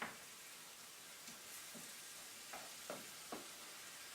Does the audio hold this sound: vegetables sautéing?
yes